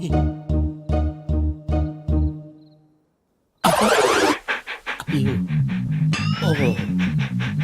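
A dog pants in quick, rhythmic bursts for about three seconds, then falls silent before a burst of loud, busy noise takes over.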